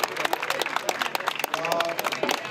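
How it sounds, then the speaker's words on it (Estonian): A crowd claps for a strongman at a 2017 outdoor competition in Vastseliina, Estonia: dense, steady, moderately loud applause throughout, with scattered voices mixed in. "No teeme aplausi ikkagi"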